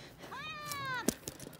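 A cat gives a single drawn-out meow with a rising then falling pitch, close and clear, followed by a short sharp noise and faint rustling on a windy day.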